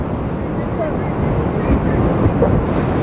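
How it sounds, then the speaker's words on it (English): Wind gusting across an outdoor softball field, a steady broadband rush that swells slightly toward the end of the moment, with faint background activity underneath. "wind is coming in again"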